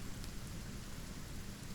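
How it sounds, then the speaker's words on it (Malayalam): Heavy rain pours steadily as a dense, even hiss across the whole stretch, close by and constant with no gaps, and no voices are heard over it. "മഴ ഇപ്പോൾ കുറയും തോന്നില്ല."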